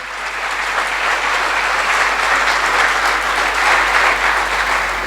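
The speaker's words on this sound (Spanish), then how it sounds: "Denle un fuerte aplauso al Señor." A congregation at a church service claps for the Lord in loud, sustained applause that fills the room for about five seconds with no voices on top.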